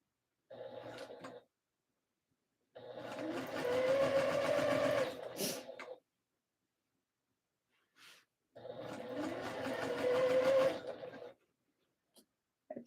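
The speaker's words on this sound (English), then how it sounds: "So again, just keep sewing all around in a circle, about an 1/8 of an inch from that folded edge that we just did." A sewing machine stitches around a skort hem in two long bursts of fast, rattling, buzzy needle motion, with short taps and pauses between runs and a brief start at the beginning.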